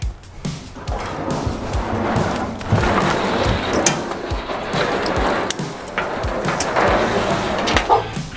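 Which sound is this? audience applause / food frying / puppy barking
puppy barking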